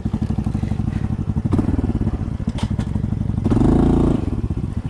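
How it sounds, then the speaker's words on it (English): A Honda CT125 motorcycle engine chugs steadily on a muddy single-track trail in rainy Thailand, then the throttle is blipped into a louder, rising rev before settling back down. "I'm just blipping my throttle so you know that I am still behind you"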